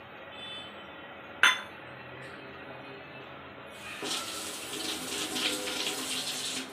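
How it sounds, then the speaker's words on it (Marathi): Tamarind water pours into a pan for a Shevli vegetable dish, a soft, steady liquid rush that swells in the second half, with a sharp clink near the start. "चिंचेचं मोठं पाणीच टाकायचं"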